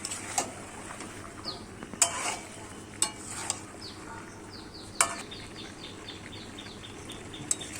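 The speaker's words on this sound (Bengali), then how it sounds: "তখন এর মধ্যে দিয়ে দেবো টমেটো কুচি, দিয়ে আবার নাড়তে থাকবো।" Chicken curry with chopped tomato stirred in a pot, a faint background sizzle broken by repeated sharp clinks and scrapes of a spoon against the metal, spaced irregularly, with soft chirping tones in the background.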